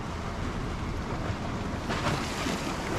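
Intense ocean surf on a Maui shoreline, a steady loud wash of breaking waves with a stronger surge near the end, roughed up by wind noise on the microphone.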